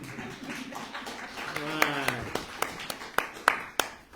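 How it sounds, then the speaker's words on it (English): A small group claps at a press event after a governor proclaims May as Beef Month in Nebraska. A voice speaks at first, then scattered, sharp individual claps pick up and grow louder toward the end. "You guys can clap for that."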